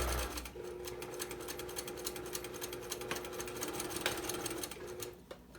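A sewing machine stitches an Olson mask, its needle clattering in a fast, even rhythm that runs close and continuous for several seconds.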